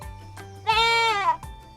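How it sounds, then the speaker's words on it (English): A goat gives one loud, wavering bleat of about half a second, close and clear, with short soft sounds before and after it. "Which animal is this? Goat."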